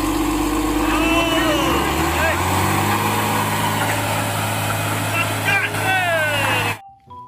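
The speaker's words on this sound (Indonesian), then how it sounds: "Lihat, ada mobil truk tangki panjang." A toy long tanker truck rumbles with a steady idling engine drone, overlaid by a few high whining pitch sweeps, loud and close, stopping suddenly just before the end.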